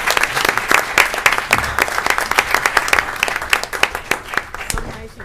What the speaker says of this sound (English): Another big round of applause to freeholder Rebecca Williams.